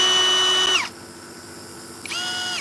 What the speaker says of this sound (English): Start out with your drill. And you drill your hole for your screw.